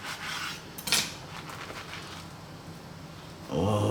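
A knife cuts open a press-grilled, toasted pesto and cheese sandwich on a board, making a close, crisp scrape and crunch through the bread with one sharper crackle, followed by steady rasping strokes.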